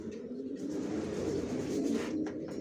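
Racer pigeons cooing in a continuous low, throaty murmur that fills the whole moment at moderate level, with no voices over it.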